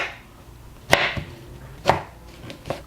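A knife chopping through pear for kimchi on a board, three or four distinct close, crisp cuts spaced about a second apart, with no talk.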